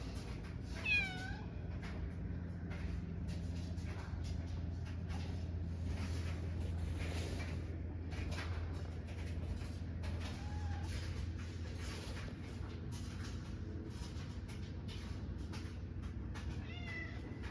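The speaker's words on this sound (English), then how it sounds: "Oh my gosh, there's a kitty." A cat meows a few times close by on a North Dakota farm, short rising cries scattered over a low steady mechanical hum and faint background noise.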